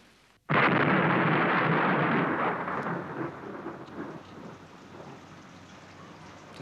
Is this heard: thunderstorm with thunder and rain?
yes